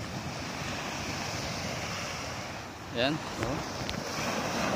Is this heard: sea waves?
yes